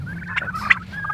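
Turkeys on pasture give a short, close gobble, a quick warbling burst lasting about a second.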